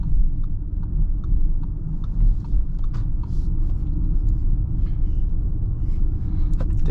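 2023 Audi Q8 55 Premium shifting down through lower gears while driving, a steady deep engine and road rumble heard from inside the cabin, with faint clicks and ticks over it.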